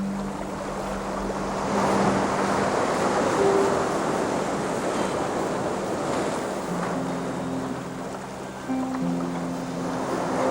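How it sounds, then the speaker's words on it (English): Sea waves at Freshwater Bay on the Isle of Wight, a steady broad wash of surf and wind with soft musical tones drifting over it throughout. "at Freshwater Bay the sea is sparkling"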